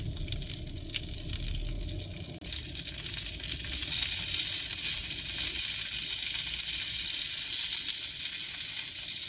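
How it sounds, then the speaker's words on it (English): Four cherry tomatoes sizzle in a hot skillet, a loud, close, continuous hiss and crackle that swells after a brief dip and then holds steady, with no talking. "So 4 cherry tomatoes. I just let them get warmed up and cook through a bit."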